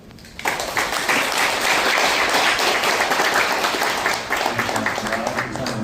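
Loud, dense audience applause at a literary association's 60th anniversary ceremony, beginning abruptly and rolling on steadily through to the end, with a voice faintly under it.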